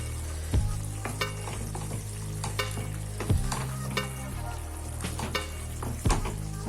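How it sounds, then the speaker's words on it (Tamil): A spoon stirring egg masala gravy with kasuri methi in a hot pan, with continuous sizzling and frying and several distinct scraping strokes and knocks against the pan at irregular intervals. "நல்லா மிக்ஸ் பண்ணி விட்டுருங்க."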